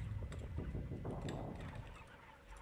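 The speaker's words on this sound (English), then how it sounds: "Oh, those are probably fucking birds." Birds in the war strategy game Sudden Strike 3, low gobbling and honking fowl-like calls, quiet and somewhat distant, repeating over a murky ambient background.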